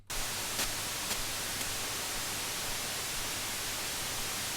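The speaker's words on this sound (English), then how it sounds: "And white noise." A steady hiss of white noise from a Roland JX-03 Boutique synthesizer fills the clip evenly from start to end, with no other sounds.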